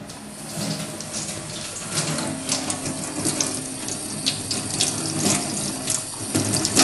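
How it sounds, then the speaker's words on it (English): Running water from a kitchen tap rinsing peppers in a sink, a steady close splash and gurgle with bursts of louder spatter and no talk. "just rinse them under the tap to make sure that obviously all the seeds are out of them"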